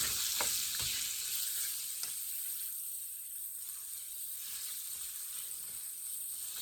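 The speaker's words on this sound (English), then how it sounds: "Oh, I forgot to flip the bacon. It was starting to burn" Bacon fries in a pan with a continuous close sizzle, a few clinks and scrapes near the start as it is turned.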